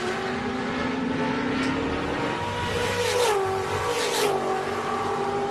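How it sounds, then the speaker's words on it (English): IROC stock cars race around the high banking of an oval in a steady, loud engine drone, with revs rising and falling as the pack runs nose to tail, plus brief higher swells like cars passing close. "Right now he's got a mirror full of Max Pappas as they go up on the banking for the final time."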